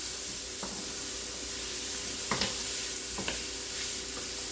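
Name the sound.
sauteing celery and vegetables in a pot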